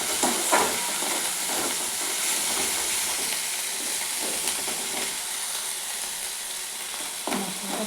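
Ground ginger, garlic, onion and cumin paste frying in oil in a pan, a loud dense sizzle and hiss that holds steady throughout, broken by a few stirring scrapes and no voices.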